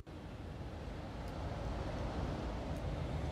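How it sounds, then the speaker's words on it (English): Low, steady rumble of distant city traffic under a quiet night hum, sparse and even, with a couple of faint clicks. "sounds like it's got some traffic in it"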